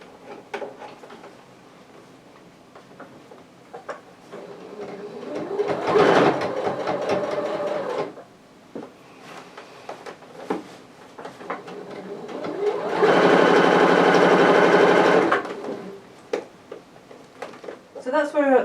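A sewing machine top-stitches the folded edge of a vintage-style apron in two bursts, a short run and then a longer steady one, with quiet pauses and small handling noises between.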